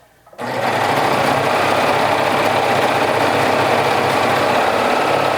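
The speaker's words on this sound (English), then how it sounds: "You can top stitch with your sewing machine by using a wide zigzag stitch." A sewing machine starts up and runs continuously at steady speed, topstitching with a wide zigzag stitch, a loud, close mechanical whir with rapid needle clatter throughout.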